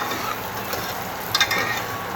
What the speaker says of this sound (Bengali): এবার এটাকে ভালো করে ভাজা ভাজা করে নেব ওদিকে মাছ ভাজা হচ্ছে